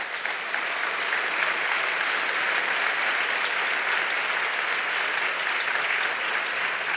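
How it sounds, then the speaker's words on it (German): An audience at a lecture on whether animals can count claps for Dr. Schmidt and Professor Bleckmann, a loud, dense, even wash of applause that holds steady throughout with no talking over it. "Sie müssen jetzt doppelt so lange klatschen, weil ich habe ja beide Namen gesagt."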